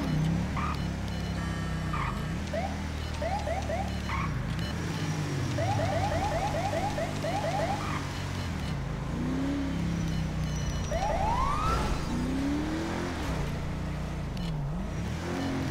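A Federal Signal Delta police siren on a patrol vehicle in GTA V with LSPDFR cycles through rapid yelping bursts and slower wailing sweeps over a running engine and traffic noise. It sounds loud and close.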